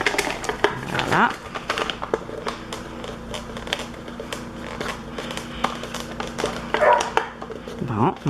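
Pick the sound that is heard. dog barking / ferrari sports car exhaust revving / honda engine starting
dog barking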